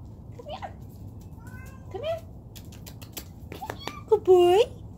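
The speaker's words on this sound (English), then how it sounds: "Kitty!" A cat meows in short bursts outdoors near a yard with chickens, ending in a loud, drawn-out meow, while a person speaks nearby.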